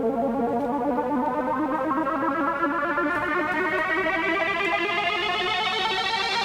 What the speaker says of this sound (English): there's a keyboard in here called a riser